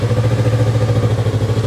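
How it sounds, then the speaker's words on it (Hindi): A Kawasaki Ninja 650 with a 650cc parallel-twin engine runs steadily at idle, a smooth, even low-pitched throb with a regular pulsing rhythm, close and loud with no talking. "सो एक बार इसकी आवाज़ सुनते हैं कि पैरेलल ट्विन 650cc का कैसा आवाज़ करता है।"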